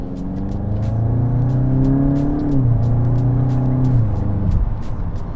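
A Volkswagen Golf 8 GTI Clubsport engine revving hard as it accelerates, pitch climbing through a gear change, loud and close, with a droning rumble beneath sharp ticking noises.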